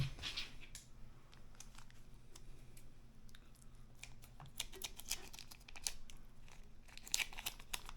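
Scissors snip repeatedly through packaging, with crisp clicks and crinkling plastic, close up and quiet with uneven pauses.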